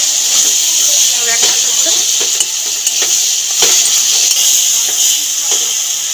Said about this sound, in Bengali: টমেটোটা একটু নেড়ে ছেড়ে ভেজে নেবো